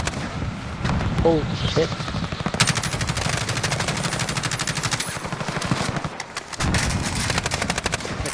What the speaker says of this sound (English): the recoil on this gun is insane